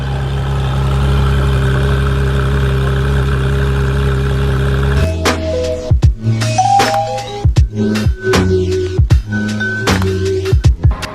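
Toyota Supra engine cranks and starts, holding a steady idle for several seconds, then the engine note cuts off and knocks, clicks and bumps follow.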